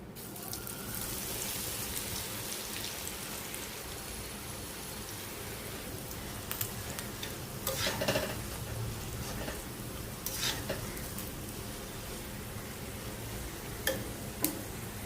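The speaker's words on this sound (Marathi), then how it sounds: "जी बाकीची राहिलेली आहे ती पण मी सगळी भेंडी फ्राय करून घेते" Okra (bhindi) frying in hot oil, a steady dense sizzle that goes on without a break, with occasional louder crackles and stirring clinks close by and no talking.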